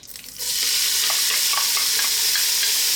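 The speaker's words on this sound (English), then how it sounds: "I'm going to add some onions" Onions hit hot seasoned beef fat in a pot for a brisket and tomato stew. A quiet start, then a loud, steady sizzle and fry that holds to the end, with a few light stirring clinks.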